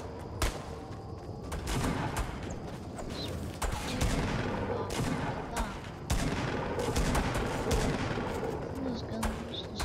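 Gunfire in the Fortnite Battle Royale video game: repeated loud shots and bursts cracking over a busy, rumbling battle backdrop, with sharp separate bangs standing out through the ten seconds.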